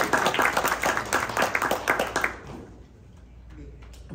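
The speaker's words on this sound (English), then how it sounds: "Yes, round of applause." An audience gives a round of applause during an author talk, with brisk, dense clapping for about two seconds that then fades into quiet room tone.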